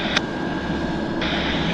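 A heavy jet aircraft taxiing at Vancouver airport, its engines a steady, loud whine and rumble throughout, with no talking over it.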